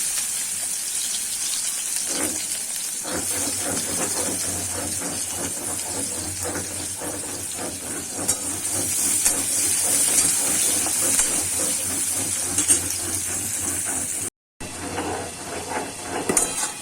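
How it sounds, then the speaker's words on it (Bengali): Onion frying in oil in a kadai with dry red chillies and nigella seeds gives a loud, steady sizzling hiss close by. The sound breaks off briefly near the end and then resumes. "পেঁয়াজটা প্রথমে দিয়েছিলাম, পেঁয়াজটা ভাজা হয়ে গেছে"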